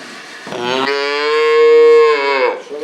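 A cow on a family dairy farm lets out one long, loud, close moo that swells and then fades, with a short grunt just before it.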